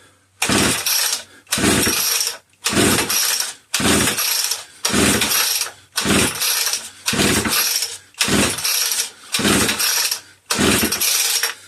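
Ten repeated bursts of a Homelite Super XL chainsaw rope pull-start, each a harsh broadband rasp about a second long, evenly spaced with short pauses; the barn-find engine has no spark and never catches.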